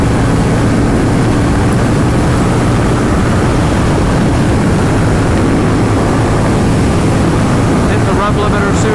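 Triumph Thruxton Ton Up cafe racer motorcycle, 2022 model, ridden at wide open throttle, a loud continuous engine roar mixed with heavy wind buffeting throughout.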